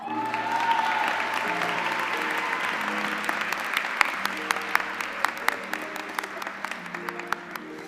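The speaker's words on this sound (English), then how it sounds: "Please join me in a round of applause for our 2022 Order of Troy recipients." An audience at a university student recognition awards ceremony claps steadily, thinning into scattered individual claps toward the end while music plays in the background.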